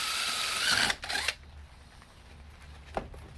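A power drill whirs loudly for about a second while drilling holes in an AC box, stops, and briefly spins again, followed by a quiet room and a single clunk.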